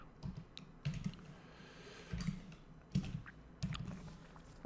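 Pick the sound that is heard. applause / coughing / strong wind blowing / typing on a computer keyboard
typing on a computer keyboard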